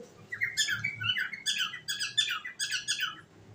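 Pet doves in a cage chatter and chirp in quick repeated clusters of bright calls, several bursts in a row, close by and fairly quiet with no talk.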